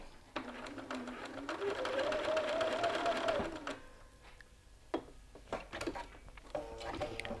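A sewing machine stitching across the lower edge of a lapel, a loud rising whir that runs for a few seconds and then stops, followed by scattered clicks and a brief short burst of stitching.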